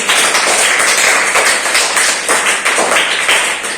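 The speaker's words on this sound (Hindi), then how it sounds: "एक बार प्रिया के लिए सभी बच्चे ताली बजाएंगे" A group of schoolchildren in a classroom clap together for a classmate named Priya during a place-value maths lesson, producing a dense, steady burst of many hands that holds for several seconds, close and fairly loud with no talking.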